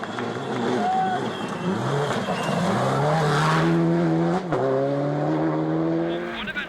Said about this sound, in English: That spin and stall will hamper his progress.